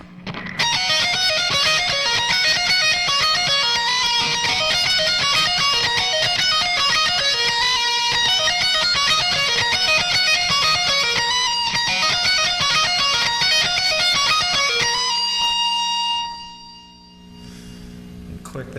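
An electric guitar plays a fast, dense lick of trills, slides and pull-offs in a continuous stream of high notes for about fifteen seconds, then fades out into a brief quiet tail.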